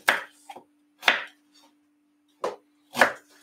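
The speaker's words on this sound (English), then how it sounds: "Cut it up small." A knife chops peeled fresh ginger into small pieces on a board: four or five sharp, close strokes in irregular bursts with short pauses between, heard clearly on their own.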